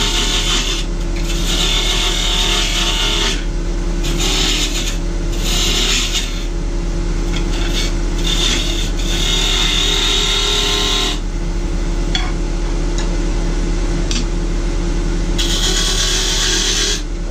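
A Powermatic wood lathe spins a tobacco pipe blank while a chisel scrapes the spindle. Rasping cuts come in irregular bursts over the motor's constant low hum, loud and close.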